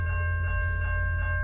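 A train of the South Coast Rail line passes the Berkley crossing at night, a steady loud rumble of cars with sustained ringing crossing-bell tones over it and no voices.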